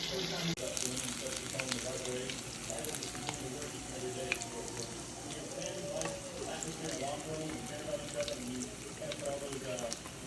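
Hawaiian shrimp sizzling in a skillet, a soft steady crackle and spit of frying with occasional stirring clinks, close but quiet, with faint talk in the background.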